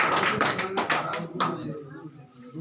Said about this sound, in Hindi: ताली बजा भाई ताली बजा